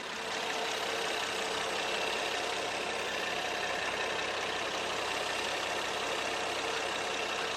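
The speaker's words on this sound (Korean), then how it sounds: "정말 정숙하고 이 안정적인 엔진 컨디션 소리 한번 직접 들려드리도록 할게요" A 2016 imported sedan's engine idles steadily and smoothly, a constant low hum with a faint mechanical flutter, close by and unbroken with no voices, the engine cover not shaking.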